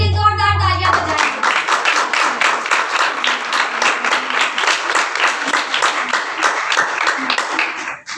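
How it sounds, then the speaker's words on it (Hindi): A church congregation at a Sunday service breaks into loud, sustained applause, rhythmic and energetic, rising right after a brief tone at the start and continuing steadily to the end. "उसके मसा के लिए जोरदार तालियां बजाएं।"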